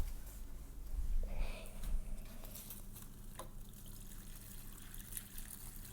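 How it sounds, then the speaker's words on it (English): Water trickles and splashes unevenly from a watering can onto a plant, louder at first then settling into a gentle continuous pour with a few brief spatters. "get the watering can, and then we water our plant"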